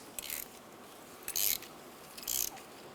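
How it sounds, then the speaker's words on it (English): Oil filter wrench working against the oil filter on a Subaru Impreza, three short scraping, ratcheting bursts spaced evenly, fairly faint and close, with no talking. "Loosen up your oil filter using an oil filter wrench."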